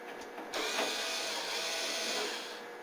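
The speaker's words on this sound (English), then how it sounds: "remove the Torx screws from the top" Power driver whirring steadily as it backs out Torx T10 screws from the top of a Whirlpool microwave, a continuous close motor buzz lasting about two seconds after a brief quiet start.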